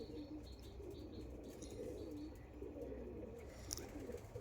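Pigeons in a loft coo in a low continuous murmur, with scattered wing flaps and a brief chirp standing out near the end, all steady and close.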